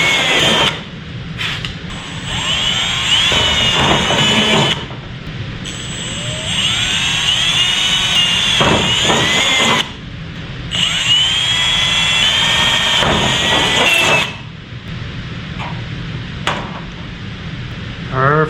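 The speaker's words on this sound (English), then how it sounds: "Let's go ahead and drill these holes." A power drill boring bolt holes runs in loud whining bursts, revving up and dropping off several times with short pauses between runs.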